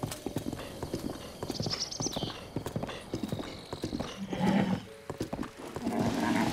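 Hooves clip-clop at a quick, uneven pace in a video game, and a horse neighs partway through. Other game sounds are layered underneath, and the hoofbeats are fairly close and moderately loud.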